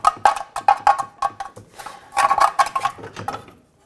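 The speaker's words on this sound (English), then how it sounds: "Now grab the axle and pull it straight out." A front right CV axle is pulled from a 2013-2018 Hyundai Santa Fe, giving a run of close metallic clanks, scrapes and knocks in uneven bursts, with no talk over it.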